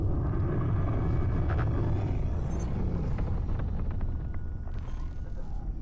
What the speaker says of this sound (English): The engine sounds in the game now are fantastic.